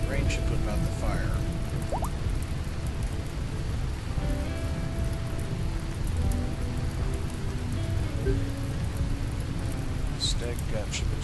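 Continuous rainfall in the Rimworld video game, an even hissing wash of drops heard throughout, layered with soft tonal game chimes and a few brief higher blips.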